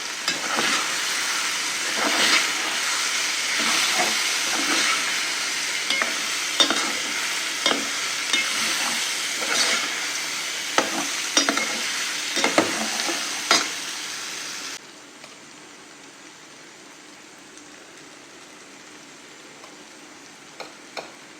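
Cashews and raw mango sizzle in hot oil with turmeric, a steady loud fry crackle with spoon stirring clicks throughout, then dropping to a much quieter simmer for the last several seconds.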